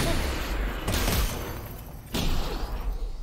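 Gunfire in the VR game Half-Life: Alyx, heavy bursts of shots and booming impacts filling the clip, loud and close, with two sharp onsets standing out amid the continuous noise.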